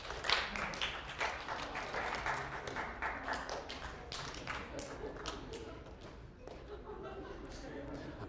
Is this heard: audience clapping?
yes